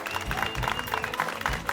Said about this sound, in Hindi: मारना ताली, ताली मार ताली